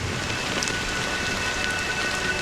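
Steady rain falls in the video game Honkai Star Rail, in the Penacony area, a dense continuous hiss of drops with faint scattered patters throughout and no voices.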